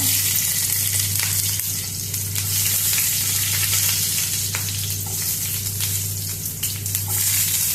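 Steady, loud sizzling of garlic and onion frying in hot oil, with a few clinks and stirring sounds, no voices.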